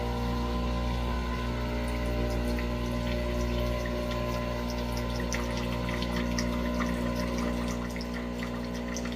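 Water pours steadily from the group head of a Breville Barista Pro espresso machine during descaling, a continuous close hiss and trickle over the machine's low pump hum, with no voices.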